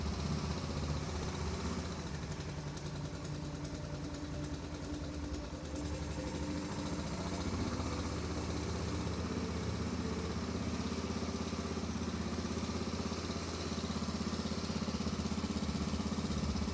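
A 1986 Honda Fourtrax ATV engine idles steadily just after a carburetor rebuild, a close, continuous low mechanical rumble that holds even throughout with no talking.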